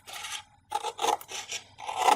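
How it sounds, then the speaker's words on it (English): Paper edges of a handmade file folio being trimmed, giving several rasping, scraping cuts in short bursts separated by brief pauses, close and fairly quiet with no talking. "trim all of our edges"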